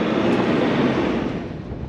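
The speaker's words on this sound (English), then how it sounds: "It's a little bit windy." Loud, rushing coastal wind at Skipjack Point, Kalbarri, Western Australia, buffets the microphone in a broad roar that eases slightly toward the end, with no one speaking.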